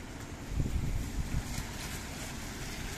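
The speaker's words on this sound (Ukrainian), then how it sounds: "Ну такі сильні поріви вітру" Strong storm wind gusts roar and buffet the microphone in a steady, heavy rush with low rumbling surges, and no talk.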